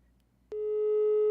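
Quiet room tone gives way to a sharp click and then a steady, loud telephone busy tone as a caller's line drops during a live radio phone-in show.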